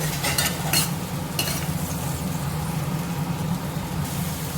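A spoon stirs masala simmering down in a pan for an egg and bread snack, with a few scraping strokes at the start and then a steady soft sizzle and bubbling throughout.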